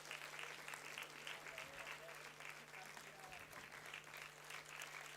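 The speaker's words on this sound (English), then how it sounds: "We need a continuous round of applause." A large audience keeps up continuous, even applause at a university convocation, steady massed clapping throughout with faint voices blended into the crowd noise.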